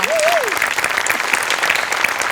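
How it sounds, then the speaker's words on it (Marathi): Audience applause at a Marathi comedy sketch show, a dense, loud, steady burst of clapping close by, with a brief voice rising at the very start. "या स्पिरिटसाठी टाळ्या."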